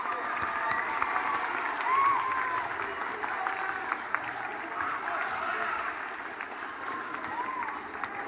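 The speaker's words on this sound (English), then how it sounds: "And everyone give them a round of applause." Audience applause fills a middle school 8th grade awards ceremony: dense, steady clapping from a large crowd that holds at an even level for the whole stretch, with a faint murmur of voices beneath it.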